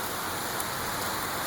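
Rain falling steadily in a city, a dense even hiss of drops on hard surfaces, moderately faint and uninterrupted.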